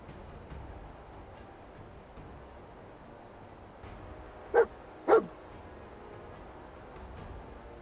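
A dog barks twice in the video game Fallout 4, two sharp barks about half a second apart over a quiet low ambient bed.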